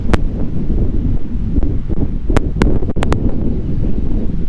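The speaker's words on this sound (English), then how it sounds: "Well, it's windy here." Steady, blustery wind buffets the microphone throughout, a constant low rumble with a few brief sharp knocks.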